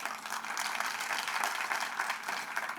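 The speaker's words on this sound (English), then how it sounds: "I only see that applause is for the continuation, not for stopping" An audience at a national legal conference applauds steadily throughout, a dense wash of many hands clapping at moderate loudness, with no talk over it.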